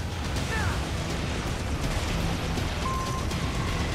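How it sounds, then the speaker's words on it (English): Explosions from the video game Metal Gear Rising: Revengeance form a continuous, loud rumbling roar with layered booms and blasts that stays dense and steady, with a couple of brief tonal game sounds on top. "explosions everywhere."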